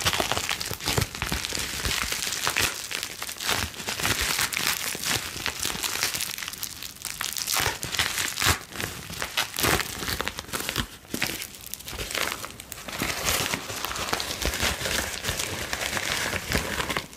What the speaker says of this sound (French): Un petit son de scotch.